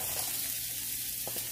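A hot pan sizzles softly and evenly, with a couple of brief knocks near the end, as mushrooms go in after lightly browned onion and garlic.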